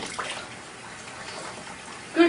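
Water from a tap runs and splashes softly as it rinses a cat in a bathtub, a steady low hiss at moderate distance, ending with a short, higher-pitched sound.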